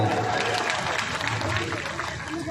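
An audience at a political welcome event at Khajuraho Airport claps for MLA Dilip Ahirwar: dense, steady applause that stays close and loud for the whole moment, with no pause.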